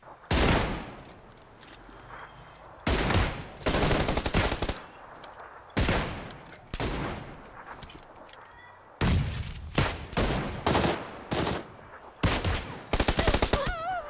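Gunfire in the battle royale game PUBG Lite comes in loud, sharp bursts of rapid automatic shots and single cracks, separated by brief quiet gaps throughout.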